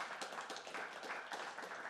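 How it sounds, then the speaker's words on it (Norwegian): Short applause from a church event audience, a modest, somewhat distant patter of clapping hands that stays soft and fairly even throughout. "Og vi skal gi dem en liten applaus innledningsvis."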